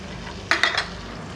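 A spoon stirring nihari masala with red chilli powder in a cooking pot, three quick scraping clinks in a row over a faint steady background hiss.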